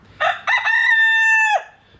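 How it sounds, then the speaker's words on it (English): A rooster crows once, close and loud, a short broken start rising into a long sustained call that cuts off sharply. "This one tries to crow. No, this one crows."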